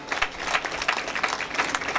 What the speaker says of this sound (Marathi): एकदा त्याच्यासाठी टाळ्या झाल्या पाहिजे.